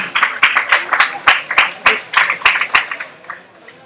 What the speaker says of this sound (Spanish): Un aplauso para este muchacho, José Ángel.